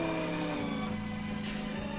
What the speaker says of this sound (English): High-speed car chase shootout.